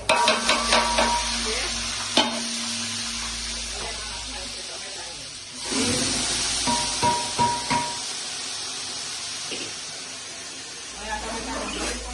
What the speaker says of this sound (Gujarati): તો ચાલો અત્યારે હવે વઘાર કરી રહ્યા છે આપણે શાકનો.